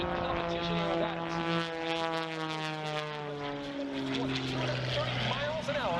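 A precision competition aerobatic propeller plane climbs along a 45-degree line at an airshow, its engine note sweeping in steady harmonic tones that slowly drop in pitch, loud and continuous throughout.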